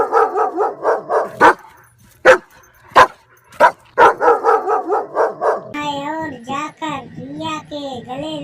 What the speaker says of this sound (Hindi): वो जोर जोर से और भौंकने लगता है